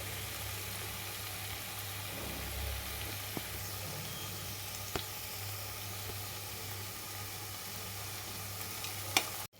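Wood apple rice is stirred in a pan over a soft, constant sizzling hiss. Occasional faint scrapes and taps of the spoon come through, and no one speaks.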